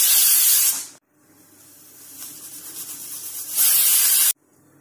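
A pressure cooker steaming maize-flour papad dough on a gas stove lets out loud hissing steam bursts from its whistle. A strong jet opens the clip, then cuts off to a softer rising hiss, and a second loud burst ends abruptly.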